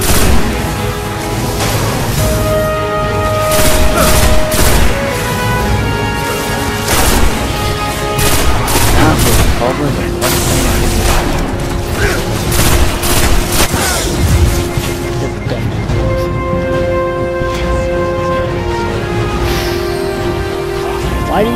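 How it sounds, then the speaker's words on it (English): Grenade explosions and gunfire in the video game Destiny, a loud, dense, continuous barrage of booms and blasts with layered game sound effects and no pause. "I have grenades too."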